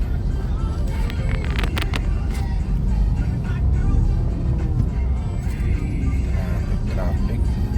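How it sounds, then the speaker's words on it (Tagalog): Heavy road traffic in Metro Manila makes a dense, steady roar of car engines and passing vehicles. Nearby horns and brief higher tones stand out early, and people talk over the rumble. "Traffic."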